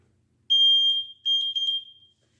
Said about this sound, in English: It's a little noisemaker for my bike, so people know when I'm coming by.